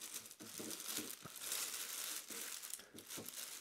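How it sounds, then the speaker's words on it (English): A clear plastic bag is crinkled and pulled off an OXO Good Grips Pop Big Square Medium 4.2 L food storage container, giving soft, close, irregular rustling and crumpling with brief pauses. "let's go ahead and remove its clear plastic bag packaging"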